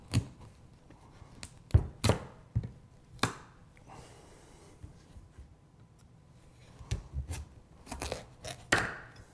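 A knife cutting a butternut squash into quarters, with sharp separate chops and taps on a board at irregular intervals, fairly close, with quiet gaps between them.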